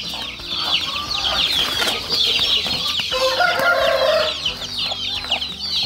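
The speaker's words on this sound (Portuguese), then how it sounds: "A galinha com as angolinhas, tô vendo mesmo." Hens and guinea fowl cluck and chatter together around a farmhouse, a busy near flock with overlapping calls and a brief rooster-like cry, all close and fairly loud with no talk over it.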